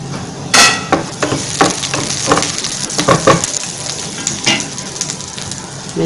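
Garlic and onion fry in a pan for a garlic chutney, with a steady close sizzle broken by repeated spatula scrapes and taps throughout.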